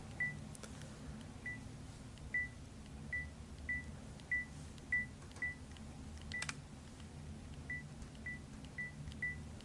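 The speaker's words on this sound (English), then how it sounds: "you can see how fast it is with the beeping sound" A series of short, high electronic beeps, each a quick double chirp, from a Leica Q (Typ 116) camera's autofocus confirmation, repeating at irregular intervals over a low steady hum with occasional faint clicks.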